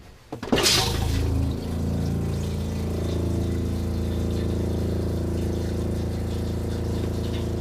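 An RV toilet in a Coachmen 21QB motorhome being flushed during winterizing: a sudden splash and rush of water, followed by a steady pump-like hum with running water that continues evenly, close and fairly loud, with no talking.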